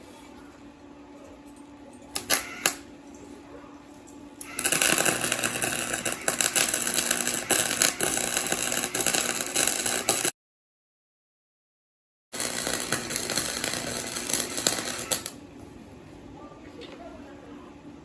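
Welding on a classic MGB body shell under restoration: a long, steady crackling buzz of the welder runs for several seconds, stops for a short silent gap, then resumes for another few seconds, loud and close, with no talk over it.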